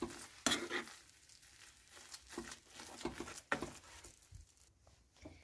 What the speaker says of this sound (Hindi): ये आलू को मैंने मैश कर लिया है। बस इसको भी अच्छे से मिक्स कर लीजिए।